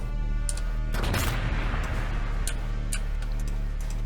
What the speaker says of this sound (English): we're gonna throw a grenade at them then.